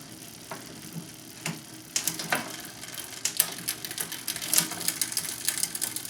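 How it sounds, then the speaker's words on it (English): A derailleur on a 2015 Diamondback Airen 1 bicycle tries to shift between gears but hangs up, giving scattered ratchety clicks and ticks over a mechanical whir. The clicks sit close by and come in uneven bursts with no talk. "That noise you're hearing is the derailleur trying to click over,"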